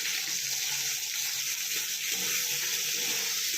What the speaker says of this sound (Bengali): তো এই মতো দিয়ে দিলাম লঙ্কা আর টমেটো কুচি